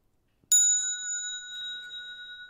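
A small bell rung once during a Buddhist ceremony gives a bright, sharp strike that rings on in a clear, steady tone, near and alone in quiet surroundings.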